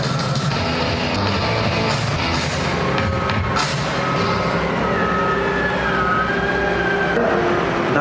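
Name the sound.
Caterpillar 992 wheel loader driving back in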